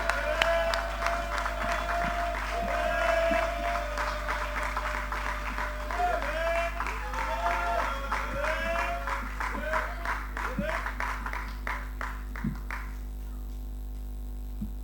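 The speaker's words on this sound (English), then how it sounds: "Can you give him a round of applause, please?" An audience at a UNIA-ACL centennial celebration applauds with sustained clapping, while a voice speaks over it and the applause fades out near the end.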